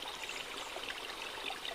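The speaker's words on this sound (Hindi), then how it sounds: "पास में छोटा पानी का झरना है" A small garden waterfall gives a steady, even rush of flowing water, soft and continuous without breaks, with no voices over it.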